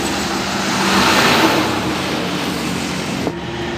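A bus of the PMH line passes close by on an Indonesian road, a loud, steady engine roar and road noise swelling then fading slightly, with a brief knock near the end.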